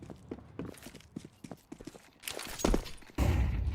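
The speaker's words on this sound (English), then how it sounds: "hearing the footsteps." Rapid, rhythmic footsteps patter across a hard surface in a Counter-Strike style shooter match, fairly close, followed by louder thumps and noisy bursts.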